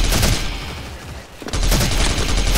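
Rapid automatic fire from the X-Mas Neon Guitar gun in the shooter game SF, loud dense bursts that thin out briefly in the middle before a fresh heavy volley resumes.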